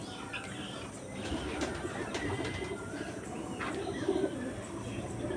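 Pigeons, Madras pigeons among them, coo softly and repeatedly close by in a loft, low throaty calls over a quiet background with a few faint chirps.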